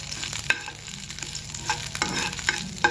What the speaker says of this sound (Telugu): చూడండి పోపు వేగాలి.